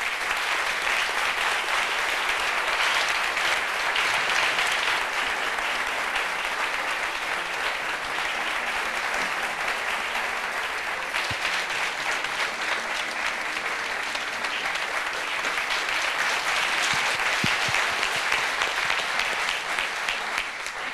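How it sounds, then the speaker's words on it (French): A television studio audience applauds loudly and continuously for about twenty seconds, a dense, even wash of clapping with faint voices beneath. "Aidez-nous à le recevoir convenablement avec, s'il vous plaît, des applaudissements comme il se doit."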